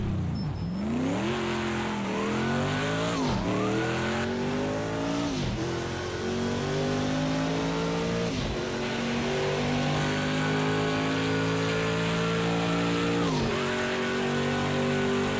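A vintage race car laps Le Mans in Project Cars 2, its engine note rising steadily through the gears, dropping at each shift, then climbing again, loud and continuous for the whole stretch with no talking.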